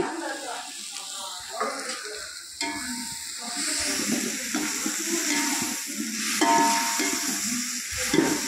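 Half a kilo of tomatoes sizzles and fries in a pan for chicken biryani, with steady scraping and stirring running throughout at close range under occasional speech.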